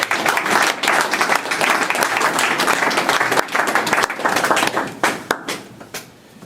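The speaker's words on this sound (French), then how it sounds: "qu'on acclame une fois de plus pour Dieu" A church congregation applauds together in sustained, dense clapping that fills the room, then thins out and tapers off toward the end.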